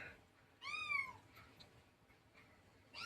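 A single clear meow rings out, fairly close, then quiet background, with the start of another meow at the very end.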